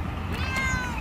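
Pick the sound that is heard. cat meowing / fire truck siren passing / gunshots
cat meowing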